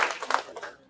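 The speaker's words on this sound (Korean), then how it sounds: "박수" A retreat audience bursts into a very short round of applause, a quick flurry of close hand claps that fades within a second.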